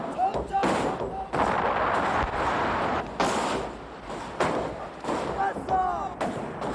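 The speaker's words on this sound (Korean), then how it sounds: "혼자 총통 발사." Joseon-era chongtong cannons firing in a staged naval battle from the Imjin War, a run of heavy booms and thuds at close range overlapping shouted commands and a clamour of voices.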